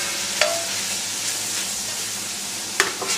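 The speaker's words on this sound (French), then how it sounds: "Remettre les morceaux de viande, couper à nouveau la flamme." Browned beef pieces returned to a pot for boeuf bourguignon, a steady close sizzle broken by two distinct clattering thumps as the meat goes in.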